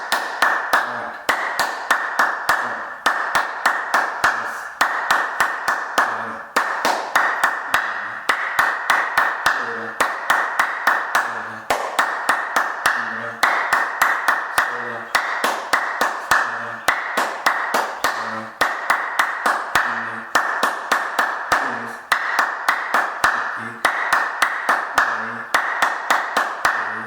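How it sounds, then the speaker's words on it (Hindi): Steady rhythmic hand clapping as part of a clapping exercise, sharp claps falling in regular groups of about five with short pauses between sets, loud and close, repeating for the whole stretch without talk. "जैसे भी हमने 25 बार किया तो 5-5 के सेट से 125 ताली हमारी बज गई।"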